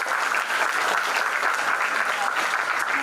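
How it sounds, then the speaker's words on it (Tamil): Sustained, loud audience applause fills the hall at a Bharatanatyam salangai (anklet) ceremony, a dense steady clapping crowd with no break across the stretch. "நல்ல ஒரு கைத்தட்டல் கொடுக்கணும்."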